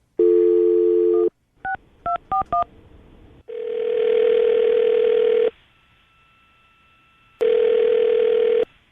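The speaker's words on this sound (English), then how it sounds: "we'll call him right now, see if we can get him on the phone" A telephone dials out for a call: a steady dial tone, then a quick series of short touch-tone beeps, a longer tone, a quiet gap, and another tone, all loud and close.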